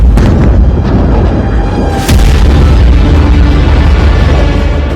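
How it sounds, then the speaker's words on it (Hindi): Airstrikes hit buildings in Beirut, heard as a loud, continuous rumbling roar with a sharp burst about halfway through. "लेबनान की राजधानी बेरूत में कई शक्तिशाली विस्फोट हुए"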